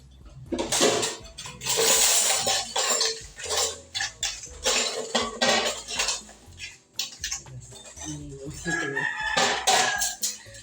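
Dishes and coffee cups clink and clatter as they are washed by hand in irregular bursts, with a rooster crowing nearby and brief talk in between.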